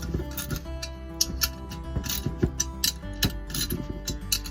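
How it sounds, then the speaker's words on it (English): A torque wrench tightens the cylinder head nuts on a 2-stroke motorized bicycle engine, with repeated close ratcheting clicks and metallic ticks in uneven bursts. "so you get a torque wrench. I like to make sure that I get everything evenly tightened"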